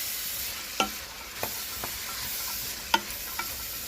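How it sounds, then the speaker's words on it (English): Black bean soup ingredients with beans being mixed in a cooking pot, giving a few soft scraping and clinking strokes of a spoon at irregular intervals over a quiet background, with no talking. "Now you want to mix everything to combine."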